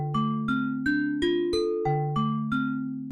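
An Omnisphere hybrid bells synth patch, with velocity opening the filter, plays eight bright, bell-like notes in a steady melodic sequence. Each note has a sharp attack and a ringing tail, heard clearly and alone.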